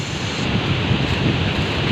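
Strong typhoon wind roaring with churning sea waves, a steady dense rush of surf and wind buffeting the microphone throughout, with no voices.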